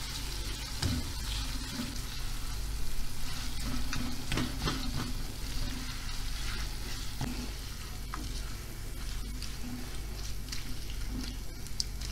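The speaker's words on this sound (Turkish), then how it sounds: "Şöyle yavaş yavaş kıymayı da kavuralım." Minced meat and onions fry in a pan with a steady sizzle throughout, while a utensil stirs and scrapes now and then; no one talks.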